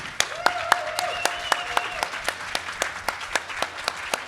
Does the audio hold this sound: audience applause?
yes